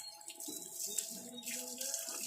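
Water running from a pipe, a soft, uneven splashing trickle close by with faint background voices.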